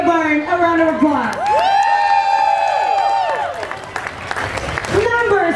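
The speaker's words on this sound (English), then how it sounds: "Let's give Jessica Barnes a round of applause." A crowd at a bikini contest during Daytona Bike Week claps and cheers loudly, with whoops and high shouts rising over the applause while an announcer's voice carries through.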